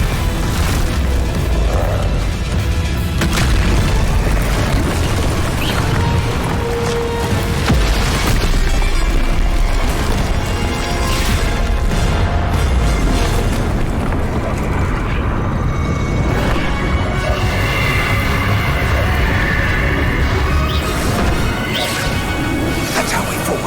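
The Expulso explosive spell in Hogwarts Legacy lands amid a loud, dense battle of crashes, whooshes and booming impacts, with a voice calling out spells over the constant combat noise.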